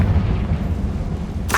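A booming blast from the Confringo spell in Hogwarts Legacy, inside a tomb: a dense, rumbling low roar fills the whole moment, with a sharp bright crackle bursting in at the very end.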